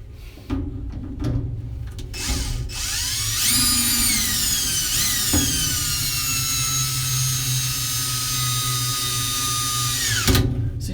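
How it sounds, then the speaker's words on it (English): A power drill on slow speed drives a screw while installing a cat portal, whirring steadily at high pitch for several seconds after a few short bursts, then stops; close and loud with faint clatter underneath. "You can come back and use the power drill just to move this in"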